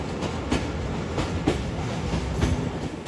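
The Sialkot Express running through Guna Kalan station without stopping, heard from on board: a loud, steady rumble of wheels and carriages with rhythmic clickety-clack beats recurring about every second.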